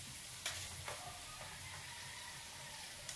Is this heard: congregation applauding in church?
no